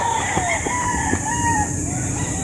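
A Boston Golden Boy gamefowl rooster crows in a long wavering call, close and fairly loud, over a busy farmyard background with faint distant voices.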